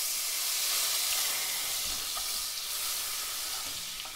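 Minced garlic sizzling in oil and butter, a steady bright hiss that fills the whole stretch, close and fairly loud, with faint clicks of a utensil underneath and no voices.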